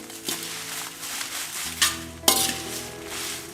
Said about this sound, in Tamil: இதை கொஞ்சம் கொஞ்சமாக வறுப்போம்.